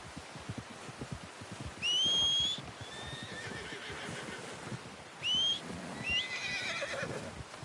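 A horse in the video game Red Dead Redemption 2 lets out two shrill whinnies a few seconds apart, fairly near, over a quiet outdoor background with faint soft knocks.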